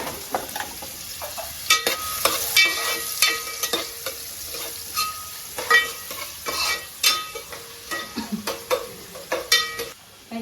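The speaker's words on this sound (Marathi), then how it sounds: "तेल तापले चिरत टाकते कांदा" Chopped onion fries in hot oil for an Aagri-style crab fry, a steady sizzle broken by repeated sharp scrapes and clinks of a spatula stirring the pan, close and fairly loud with no talking.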